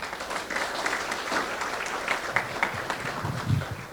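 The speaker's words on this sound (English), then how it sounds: "And I think that deserves a round of applause." A crowd at a school district press conference applauds steadily, dense overlapping claps at moderate volume, with a few whoops and louder bursts toward the end.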